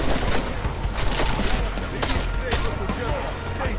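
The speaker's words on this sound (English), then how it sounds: "Sounded like a semi-auto." Semi-automatic gunfire in the video game Deus Ex: Mankind Divided: several sharp, loud shots in quick irregular succession with echoing tails, fairly close.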